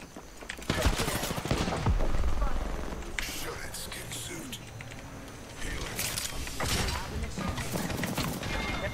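Rapid bursts of gunfire in the video game Apex Legends, sustained and loud throughout, with a person talking over the shooting.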